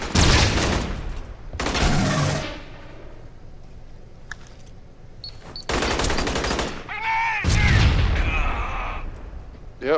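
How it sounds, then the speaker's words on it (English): A grenade blast bursts out among heavy automatic gunfire in the Aliens: Colonial Marines game, with loud, dense volleys at the start, middle and end and a quieter stretch between them. "Yeah, it was a grenade."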